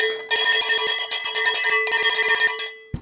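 A cowbell rings out in a song, struck in quick, steady rhythmic hits that stand loud and bright at the front of the music, ending with one final lower thump.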